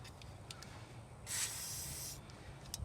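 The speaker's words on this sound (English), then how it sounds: "Spray some old WD-40." A can of WD-40 lubricant sprays in one steady hiss lasting under a second, close by, with faint clicks and handling noises before and after.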